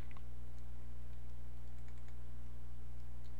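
A few faint computer mouse clicks, sharp and brief, scattered over a steady electrical hum.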